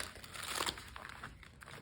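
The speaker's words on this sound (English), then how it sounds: "that was a crappy shuffle" Wild Unknown Tarot cards riffled and shuffled by hand, a quiet papery crinkling burst that swells briefly then trails into softer rustles, close up with no talking.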